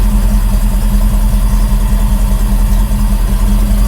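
An early Ford F250 4x4 Highboy truck engine idles at a steady, loud, low rumble that holds unchanged throughout, with no talking.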